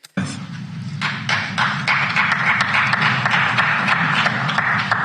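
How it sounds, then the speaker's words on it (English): Thin, sparse applause from just two people in a large hall, scattered claps ringing out over a low room rumble, steady and unenthusiastic throughout. "There's only 2 people applauding."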